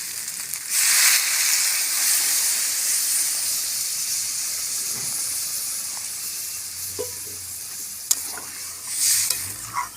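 Water poured into a hot pan of sautéed spices sends up a loud, sustained hiss of steam that fades gradually, with a few faint clinks near the end.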